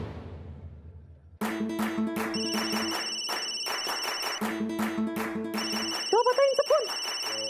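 A phone rings with a melodic electronic ringtone for an incoming call, bright looping tones repeating loud and clear for several seconds, cutting in abruptly after a quieter start, with a brief voice over the end of the ringing.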